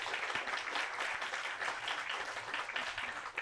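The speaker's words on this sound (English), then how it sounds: "So please give them a round of applause." A room at an opening-night event applauds a local sweets bakery with steady, fairly distant clapping. The sound stays even and moderate throughout.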